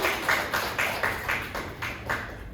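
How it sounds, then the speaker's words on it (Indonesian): A small audience at an indoor question-and-answer session claps in a loose, thin rhythm of separate bursts, moderately near and fairly quiet. "Tepuk tangan untuk kita semua."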